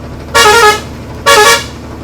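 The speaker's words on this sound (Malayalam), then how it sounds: "ഈ വഴിയൊക്കെ ഹോൺ അടിച്ചില്ലെങ്കിൽ പ്രൈവറ്റ് ബസ്സൊക്കെ തകർത്തു വരും" Vehicle horn on a winding road near Thodupuzha, two loud close honks, each about half a second long, separated by a short gap, with no talk.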